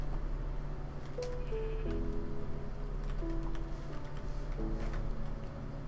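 Sheep in Minecraft bleat softly with a few short, wavering calls in a row, faint over a low steady background hum and light ticking, with no talk.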